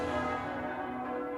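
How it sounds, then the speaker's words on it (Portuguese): Church bells ring out to announce a newly chosen pope, a steady sustained peal heard faintly and at a distance for a moment, with no voices. "E os sinos anunciam que a Igreja tem um novo líder."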